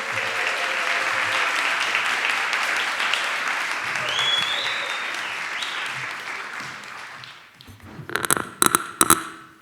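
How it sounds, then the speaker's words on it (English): A large audience at a 2022 rural housing summit claps steadily for internship presenters; the applause fades, then a few loud, sharp taps or knocks ring out near the end. "please give them a round of applause as they are getting ready to present"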